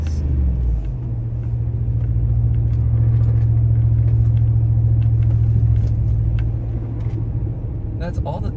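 Car engine droning steadily while driving, a loud, close, low rumble that swells slightly and then eases, with voices talking over it.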